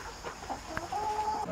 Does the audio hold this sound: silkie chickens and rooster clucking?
yes